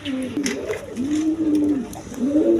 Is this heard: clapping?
no